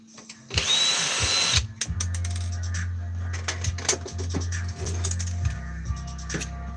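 A power drill whirs in a loud burst and then runs at a low steady hum with clicks and small metal clatters as screws are backed out of a DVD player, close up.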